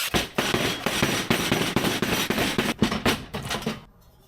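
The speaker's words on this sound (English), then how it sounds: "I'm gonna start by cutting the Y pipe here" Cutting through an exhaust Y pipe in preparation for fitting a NASCAR-style boom tube, giving a loud, dense, sustained harsh metal-cutting noise in close bursts that stops abruptly near the end.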